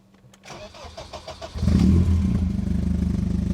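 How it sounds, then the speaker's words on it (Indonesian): A BMW M3 E30 Sport Evolution cranks with a rhythmic starter whir, then the engine catches with a loud roar and settles into a lumpy, rumbling idle close by. "Kita nyalakan dulu mesinnya."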